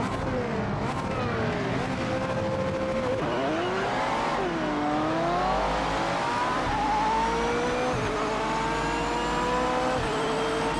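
A race car engine in the video game Project Motor Racing drones loud and steady, its pitch climbing and dropping with each gear change and throttle lift. Faint tire noise sits beneath the engine note.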